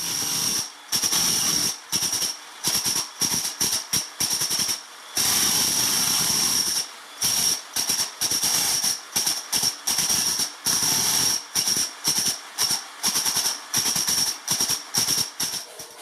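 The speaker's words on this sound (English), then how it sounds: "Use the 6-inch blade to scrape the thinset off." A power scraper fitted with a 6-inch blade scrapes thinset off a concrete floor in repeated loud, hissing bursts, one longer push partway through, close up.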